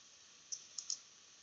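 Three small, crisp computer mouse clicks sound close but faintly over a quiet hiss, the last two coming in quick succession.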